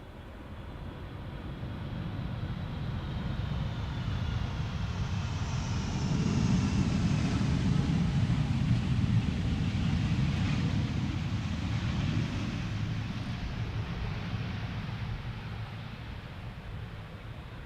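A 24-year-old Icelandair airliner arrives at Amsterdam Schiphol in a gusty crosswind, its engine roar swelling to a loud broad rumble mid-clip and then easing off, mixed with wind buffeting.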